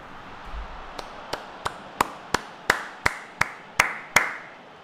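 One person slowly claps their hands, about ten evenly spaced sharp claps that grow gradually louder, heard close and alone during commentary on a FIFA 23 career mode match.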